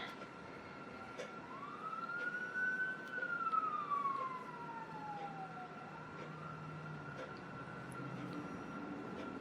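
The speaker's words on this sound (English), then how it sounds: "There's another siren." A single police siren wails in the distance outside, slowly rising and falling in pitch over a low background hum.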